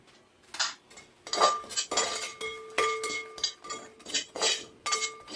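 A spoon scrapes and clinks repeatedly against a metal pan as coriander powder is stirred for a Kerala sadya sambar, close, fairly loud, rhythmic strokes with no talking.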